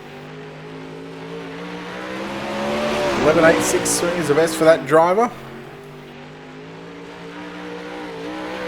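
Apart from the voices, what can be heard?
360 sprint car racing a lap at Kokomo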